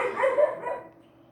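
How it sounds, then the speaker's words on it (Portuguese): A dog barks a few times indoors, fairly close and moderately loud, with short yelping barks that fade off toward the end. "Vocês desculpem o latido do cachorro"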